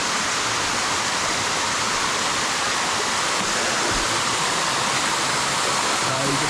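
Sticky Waterfall in Chiang Mai roars as a steady, loud broadband rush of falling water, continuous and close throughout, with faint voices barely noticeable beneath it.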